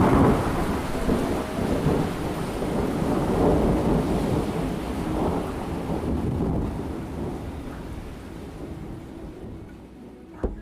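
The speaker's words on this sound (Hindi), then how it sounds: "बाहर मूसलाधार बारिश हो रही थी और तेज हवाएं चल रही थी।" Heavy downpour in a thunderstorm at night, driven by strong wind: a dense, steady roar of rain with deep rumbling thunder rolling underneath, fading slightly toward the end.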